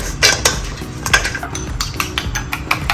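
A utensil stirs cornstarch in a bowl for a Chinese salt and pepper lobster recipe, giving rapid irregular clinks and scrapes against the bowl, close and fairly loud throughout.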